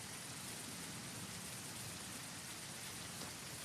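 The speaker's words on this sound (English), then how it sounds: "It's raining." Steady rain hisses evenly throughout, a dense broadband patter with no voices, constant in level from start to finish.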